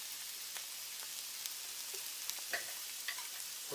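Vegetables for a Bolognese-style spaghetti sauce sauté in a pan over fairly high heat, giving a soft, steady crackling sizzle with faint scattered pops and light stirring clicks, quiet and without talk.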